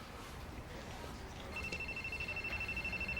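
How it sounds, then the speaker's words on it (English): A cell phone rings with a steady electronic trilling tone that starts partway through and repeats rapidly, heard close over a quiet room background. "Your cell phone. It's ringing."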